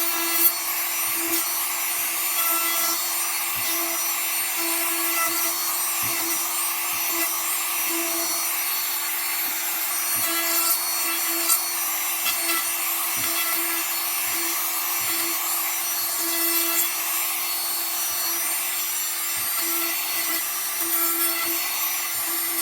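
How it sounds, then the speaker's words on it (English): A router trims the edges of a wooden cutout, a steady loud whine with rough rasping as the bit cuts, running without a break for over twenty seconds. "I like to route it to give it more of a realistic feel."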